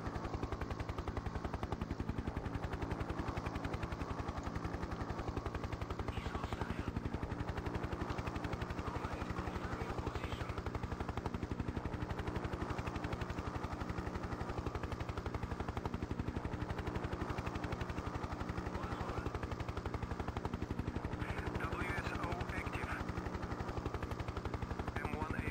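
A Hind attack helicopter takes off in the 1996 game Hind. A dense, constant rotor and engine drone fills the scene with steady loudness, joined by rapid gunfire-like bursts, and no clear talking.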